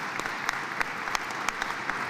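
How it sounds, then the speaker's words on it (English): Audience at a university convocation ceremony applauding graduating students, steady crowd clapping with a few sharper claps standing out. "let's clap for them"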